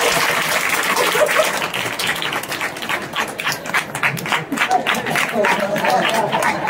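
An audience claps throughout a kirtan gathering, dense, continuous clapping with uneven rhythm, with a few voices mixed in among the crowd.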